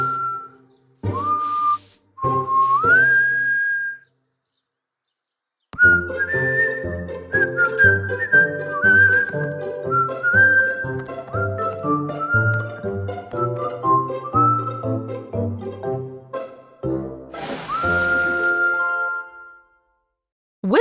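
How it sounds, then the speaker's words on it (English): A whistle opens with two short rising slides, then carries a long whistled melody over light musical accompaniment before a final rising blast. "W is for whistle."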